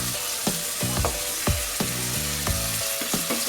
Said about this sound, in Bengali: দিয়ে দিচ্ছি আগে থেকে ভেজে রাখা আলু